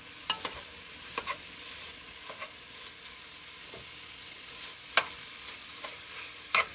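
Turkey sausage cooks in a pot over medium-high heat for sausage and kale soup, a soft continuous sizzle broken by sharp intermittent clicks and scrapes of a spoon breaking up the meat.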